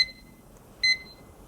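A kitchen timer being set for one minute while cooking spaghetti, giving two short, high electronic beeps separated by a pause, close and clear over a quiet background.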